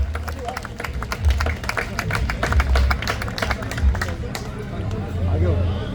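An audience at a Hanuman Chalisa recitation event in Delhi applauds, a dense patter of many hands clapping amid crowd babble and voices, loud and sustained throughout.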